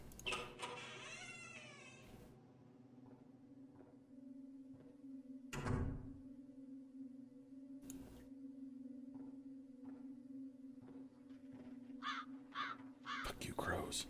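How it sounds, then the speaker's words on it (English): Crows caw in the horror game Dead Secret, a burst of harsh calls near the start over a low steady hum of game ambience, followed by a few scattered thuds and clicks and another sharp sound at the end. "Fuck you, crows."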